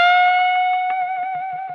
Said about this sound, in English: Here we have a very challenging note. Bend with vibrato.